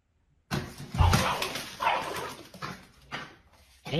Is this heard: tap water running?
no